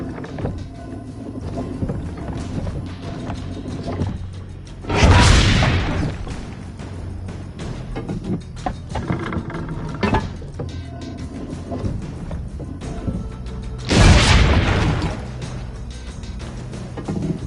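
Two heavy cannon blasts in Assassin's Creed Brotherhood, each a loud booming burst about nine seconds apart, over a steady bed of ambient game sound and scattered small knocks.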